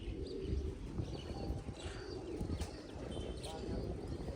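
A pigeon coos softly nearby in a couple of low repeated calls, with faint chirps of other birds and a quiet outdoor background behind.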